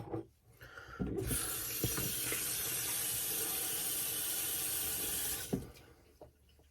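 Water running from a bathroom tap while shaving lather is worked up, a steady close hiss of flowing water for about four seconds, opened and shut with faint clunks and handling noises on either side.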